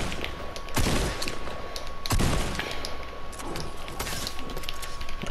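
A Tommy gun firing in a video game, with two loud dense bursts of rapid shots and quieter mechanical game noise between them, close and without talk.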